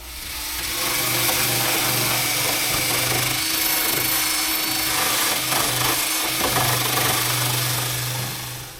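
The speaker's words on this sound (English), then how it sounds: "I'll start off just by going over it with a drill." A power drill whines loudly and steadily for several seconds with a brief pause, its motor hum mixed with gritty rasping against a surface of a Rover P6 2000.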